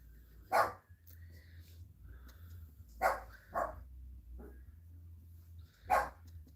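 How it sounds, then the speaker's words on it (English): A dog barks in short, loud single bursts, about four times with irregular gaps, over a low steady background hum. "My dog needs to go out."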